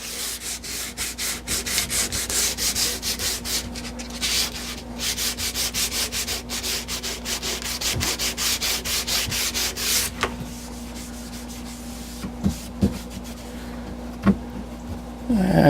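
Sandpaper worked by hand over a plywood surface on a cabinet, rapid rhythmic back-and-forth rasping, close and loud, tapering into a few isolated scrapes near the end.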